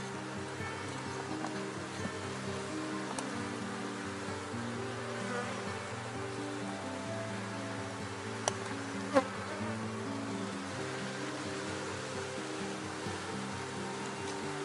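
A honeybee swarm buzzes steadily at a wooden hive box, a dense, continuous drone of many wings with shifting pitch, close and even throughout, with a couple of faint clicks and no talking.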